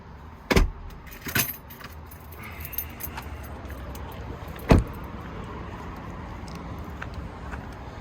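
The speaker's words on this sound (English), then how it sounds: "I'll go ahead and fire the truck up for you guys so you can hear it with the Shorty Headers." Keys jangle in a couple of brief bursts, then a 2019 Ford F-150 fitted with shorty headers starts with a sharp crank and settles into a steady, low idle rumble.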